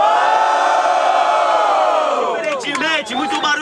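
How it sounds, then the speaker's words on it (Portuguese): A crowd at the final of a freestyle rap battle roars with loud, sustained cheering and shouting, then breaks into a clamor of individual whoops and yells near the end. "Barulhos, barulhos pra quem gostou das rimas do JP!"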